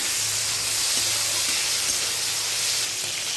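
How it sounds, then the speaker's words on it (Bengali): Shrimp rubbed with salt and turmeric frying in oil in a wok, a continuous loud hissing, spattering sizzle at constant intensity, close and alone. "এবার কড়াইতে ভেজে নেব"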